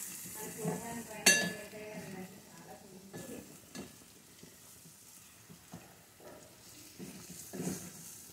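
Chili powder and spices stirred in a hot kadai for mutton curry, a low continuous sizzle under occasional scraping strokes of a spoon, with one sharp clink of metal early on.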